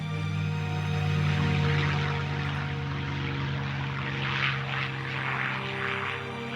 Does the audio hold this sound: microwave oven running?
no